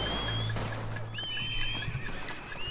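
Horse in the Red Dead Redemption video game whinnying, a loud neigh near the middle over hoof clops and ambient game sounds.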